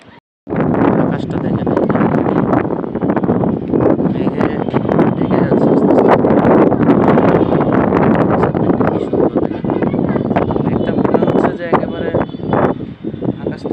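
Outdoor wind buffets the microphone in a heavy, continuous rumbling roar while a person talks over it almost the whole time.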